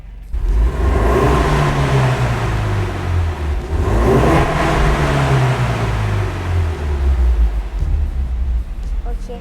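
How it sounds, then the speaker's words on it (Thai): A 2020 Ford Mustang EcoBoost in sport mode revving, its exhaust rising and falling through two or three loud close surges over a steady deep engine drone. "เราฟังเสียงท่อกันไปแล้วนะคะ"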